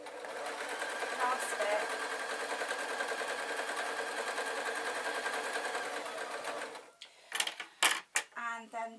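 A sewing machine stitches a fabric bunny puppet, a steady rapid needle chatter held for about seven seconds before stopping, followed by a few knocks and a voice speaking briefly.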